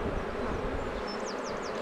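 Honeybees buzz steadily over a brood frame during a hive inspection, a dense, continuous hum close by with a few faint higher whines passing through, and no talking.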